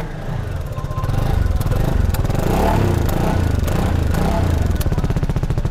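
A CF Moto NK 300 motorcycle engine runs close by in Bangladesh, a steady, throbbing idle with a rapid pulsing beat that firms up after the first second and holds without talk.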